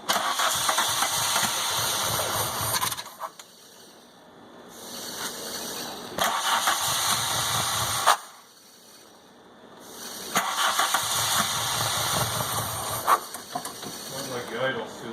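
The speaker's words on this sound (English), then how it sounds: "Sounds like the idle's too low." A VW Mk2 GTI engine converted to motorcycle carburetors turns over and briefly runs in three separate bursts, each dropping away into near quiet, recorded fairly faint with a steady hiss and occasional voices nearby.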